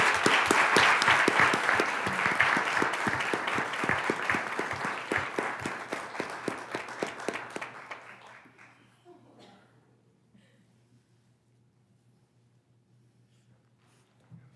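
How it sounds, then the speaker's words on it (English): Audience applause at a school board meeting, a loud crowd of clapping hands that slowly thins out into a few scattered claps and fades to near silence over its second half. "Let's give them a round of applause."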